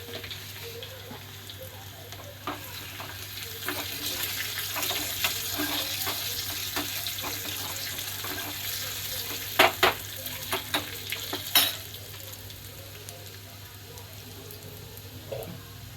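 Cumin and mustard seeds sizzle and crackle in hot oil for a beetroot curry, a steady frying hiss with scattered sharp pops that cluster louder near the end, close by and with no talking.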